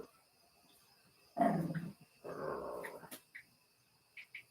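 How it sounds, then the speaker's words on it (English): A little tiny dog barking across the street, a few sharp yaps and a longer rough bark at a distance outdoors, with crickets or insects chirping faintly in the background. "The little tiny dog barking across the street."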